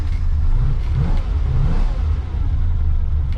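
A Ferrari 330 Interim car engine runs loud and close, with its mid-pitched roar swelling into revs and easing back. The engine note holds steady throughout, with no voices over it.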